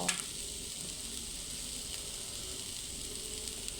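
Chilies dry-roast with a small drizzle of oil in a pan for a northern-style stir-fried chicken dish, making a steady close sizzle and hiss that runs unbroken throughout with no voices.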